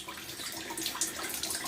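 Water trickling and splashing steadily inside a home furnace humidifier, a close, continuous running-water wash with bright spattering drops and no pauses.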